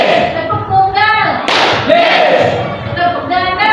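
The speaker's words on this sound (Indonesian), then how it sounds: "Tepuk tunggal." A class of students claps once together, one sharp loud burst near the middle, with children's and a teacher's voices talking around it.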